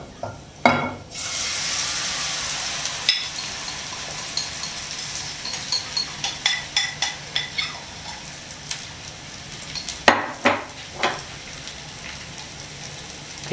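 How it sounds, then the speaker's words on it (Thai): Batter-coated mussels and egg frying in hot oil over medium heat, giving a steady crackling sizzle with occasional sharper pops and clatters of stirring or a utensil striking the pan. "พอน้ำมันร้อนนะครับเราก็จะใส่นะครับแป้งกับหอยลงไปนะ"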